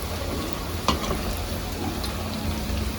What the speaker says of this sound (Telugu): సో ఇలా మంచిగా డీప్ ఫ్రై అయితే చేసేసుకోవాలి.